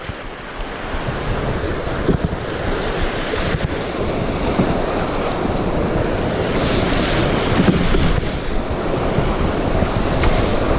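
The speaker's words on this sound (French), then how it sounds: "à gauche, il y a trop de rapide" Rushing river rapids on the Bonaventure River during a canoe trip, a steady, close roar of churning water mixed with buffeting wind noise on the microphone, with no talking.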